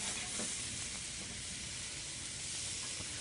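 Onions, carrots and celery sizzling in a pan, a steady dense frying hiss that stays even and close throughout.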